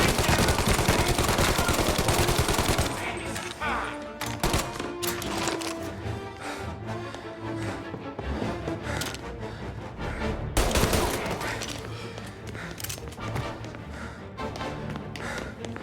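Rapid automatic gunfire and bursts of shots in a Mafia Definitive Edition shootout, a dense stuttering barrage at first, then scattered loud single shots and volleys with music underneath.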